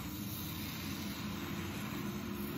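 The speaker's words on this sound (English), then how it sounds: "I'm gonna go with the oxyacetylene here" An oxyacetylene torch burns with a steady, loud roaring hiss while heating thicker metal for brazing, unbroken and close throughout, with no talking.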